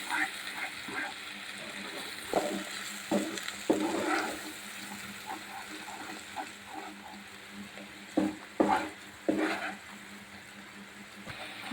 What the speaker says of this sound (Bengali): আমি এটা 5 মিনিট মতো ভালো করে কষিয়ে নেব